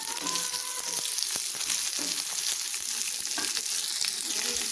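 Square-cut onions fry steadily in a pan of oil for mushroom Manchurian, a close, continuous sizzle with scattered crackles and the occasional clink of a stirring spoon, and no voice at any point.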